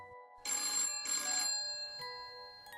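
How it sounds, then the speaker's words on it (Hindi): A telephone rings in two loud, bright bursts close by, followed by a faint tail and quiet room noise. "अचानक ही मेरे टेबल पर पड़ा हुआ फोन बजने लगा"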